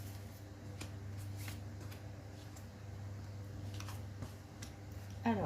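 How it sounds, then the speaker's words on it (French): Tarot-style cards shuffled and drawn for a reading, with soft brushing and faint papery ticks spread across the span, quiet over a steady low hum, with no talk. "je vais sortir encore 2 cartes"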